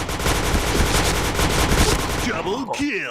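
Rapid automatic gunfire in the shooter game Point Blank, a dense continuous burst of loud shots that stops after a couple of seconds and gives way to a voice talking.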